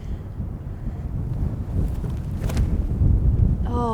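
Strong headwind buffets the microphone on a disc golf course, a loud low rumbling roar that swells and gusts for a few seconds with no talk.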